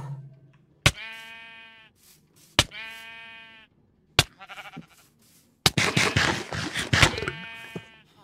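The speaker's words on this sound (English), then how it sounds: "Sheep." Minecraft sheep bleating in the video game, three separate clean bleats with pauses between, followed by a louder cluster of game sound effects and one more bleat.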